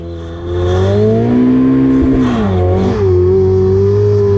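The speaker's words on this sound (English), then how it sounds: "Do you want to warm your tyres up a bit?" A Ferrari 488 Pista revs to warm its tyres, its loud, close engine rising from idle into a sustained high drone with a couple of brief pitch dips and swells.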